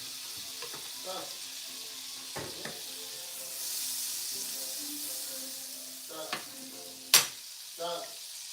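Pancakes fry in a very hot pan, giving a continuous hiss with a swell of sizzling in the middle, sharp utensil clicks and scrapes, and faint voices now and then in the background.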